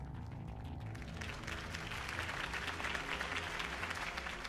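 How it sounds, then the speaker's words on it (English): Crowd applause and cheering follow a campaign speech by a mayoral candidate in the Batman Telltale Series game, a dense, steady wash of clapping that holds at even loudness with a low music-like hum beneath. "If only Mr. Wayne, my campaign's largest backer, could have heard that applause"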